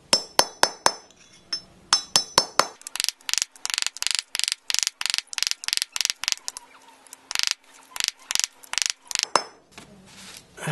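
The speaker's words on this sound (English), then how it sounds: "You can hear when it hits the end." Metal hammer strikes drive a taper roller wheel bearing down onto its seat in the front axle of a 1275 MG Midget, a long run of sharp, ringing metallic taps, some quick and some spaced, close and loud.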